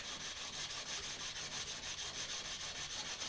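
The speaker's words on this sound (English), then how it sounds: "I'm just going to sand on this piece of sandpaper, maintaining the facets that we were so careful to produce with our file work" A crooked knife blade is sanded on sandpaper by hand, a steady rhythmic rasping scrape repeating in even strokes, close and continuous with no talk.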